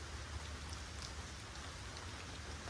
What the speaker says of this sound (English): It's just me standing on my front porch with the rain.